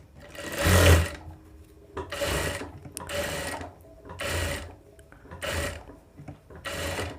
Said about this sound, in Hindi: सिलाई लगा देंगे।